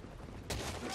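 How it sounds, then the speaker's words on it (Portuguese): A rapid volley of muffled wooden cannon shots in Fall of the Samurai, a dense burst of booming blasts erupting halfway through. "os tiros do canhão de madeira"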